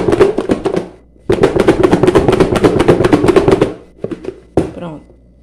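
A covered bowl of pork chop seasoning is shaken by hand in a kitchen, giving loud, dense bursts of rattling and knocking in two long runs, followed by a few scattered knocks near the end.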